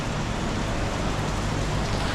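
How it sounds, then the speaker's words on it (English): Steady rain pours onto a street in Macau, a dense, even hiss of drops on pavement and surfaces that stays constant and fairly loud throughout, with no talking. "Looks like the rain is really coming in over there."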